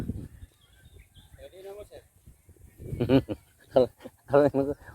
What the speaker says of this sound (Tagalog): Daming kanding dito guys, no.